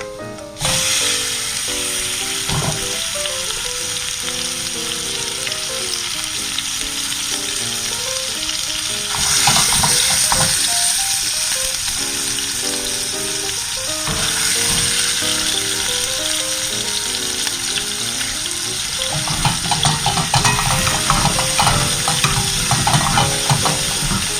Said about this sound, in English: I want to cook the beef until it's brown